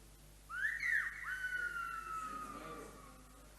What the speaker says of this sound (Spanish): El silbo es un idiófono y al mismo tiempo es un lenguaje sustitutivo